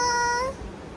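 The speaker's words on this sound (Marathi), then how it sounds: "दीदीचीच कॅट आहे" A single short, clear meow from a pet cat indoors, close and moderately loud, fading after about half a second.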